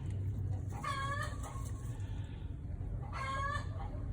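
Black chickens cluck and squawk in two short harmonic bursts, close by, over a low steady background rumble on a farm.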